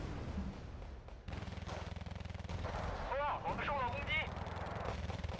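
Gunfire crackles steadily in the war strategy video game Wargame: Red Dragon, with rapid rattling shots and distant booms under the game's background rumble, while voices talk over it.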